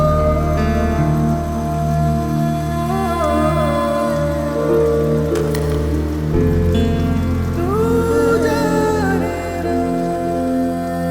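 Steady rain falls and patters on surfaces throughout, blended with a melodic music bed that carries on beneath it.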